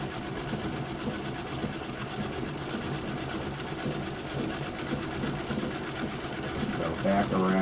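A White Rotary treadle sewing machine runs continuously while free-motion quilting, making a steady rapid mechanical clatter close by, with a brief bit of talk near the end.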